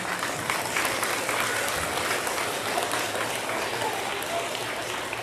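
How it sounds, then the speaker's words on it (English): Sustained applause from students and staff at a school leadership assembly, honoring teachers, a dense even wash of clapping lasting the full five seconds at moderate level, with faint crowd murmur. "I just want to give another huge round of applause to our teachers who were the Lego people this year"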